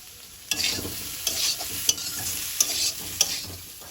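Jeera aloo, potatoes fried with cumin, stirred in a pan: repeated scraping strokes of a spoon against the metal with a steady sizzle underneath, close and moderately loud, with several sharp clinks along the way.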